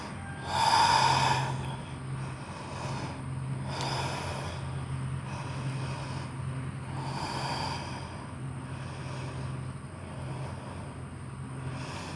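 Slow yoga breathing, with one strong audible exhale near the start followed by softer, steady inhales and exhales over a constant low hum. No one speaks.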